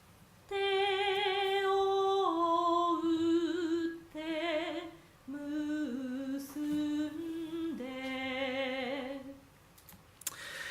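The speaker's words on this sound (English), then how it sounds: "let's play one how it sounds natural singing, one of the samples" Natural singing voice sample from a singing voice dataset: a solo voice sustains clear pitched notes with shifting melody and vibrato, loud and close, in several phrases separated by brief pauses.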